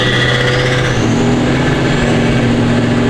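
A Duramax diesel pickup truck accelerates while driving, a loud, continuous close engine drone with rising tone that fills the whole stretch without any voices.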